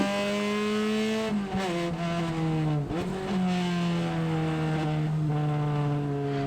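Car engine lapping a track while the tyres warm up, a loud steady drone with harmonic pitch that dips and drops on a couple of shifts, plus brief rough bursts, with no talking.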